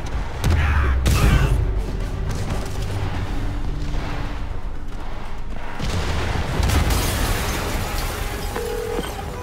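A deep boom bursts out over a dense, rumbling wash of noise in the video game Spider-Man Remastered, and a second heavy thud follows several seconds later.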